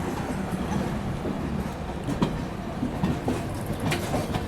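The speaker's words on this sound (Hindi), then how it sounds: "यहाँ पर अपनी क्रॉसिंग हो रही है अभी गोरखपुर पनवेल सुपरफास्ट एक्सप्रेस के साथ" A Gorakhpur–Panvel Superfast Express crosses alongside a moving train, heard from inside as a steady rumble with rhythmic wheel clatter and a few sharp clicks over the rails, moderately faint.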